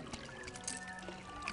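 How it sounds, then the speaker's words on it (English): Water pours and trickles as a canteen is filled in the Emperor's Tomb video game, a faint, steady flow lasting a moment and heard alone. "I can use this water to fill up my canteen."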